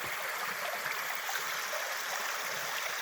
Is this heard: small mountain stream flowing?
yes